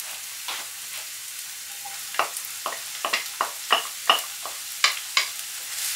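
Sliced onion and bell pepper sautéing over medium heat in a pan, a continuous sizzle broken by a series of sharp scraping stirs, close and alone with no talk.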